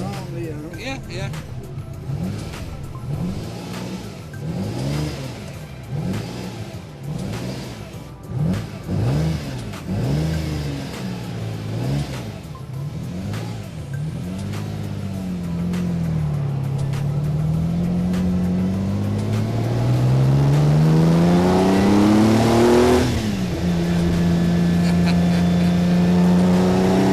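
A Lamborghini sports car engine revving and accelerating on the move, with repeated rising and falling engine pulls that build into a long, loud climbing surge near the end while people talk over it.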